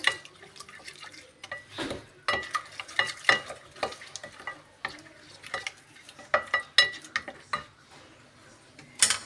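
Spices including paprika, black pepper, garlic powder, onion powder, salt and turmeric stirred together in a bowl, a series of close scraping and clinking strokes in uneven rhythm with short pauses, no speech.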